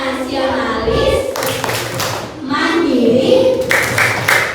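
A group of children performs the PPK clapping routine in a classroom, with rhythmic clapping mixed with chanting voices, loud and close.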